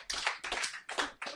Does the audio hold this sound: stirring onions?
no